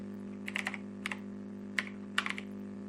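Keys tapped on a computer keyboard while entering text into a web page input field, a few separate bursts of clicks over a steady low hum.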